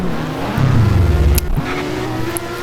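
A race car engine revs hard during a race, with a loud low droning pitch that rises and falls as it accelerates, steady and close throughout.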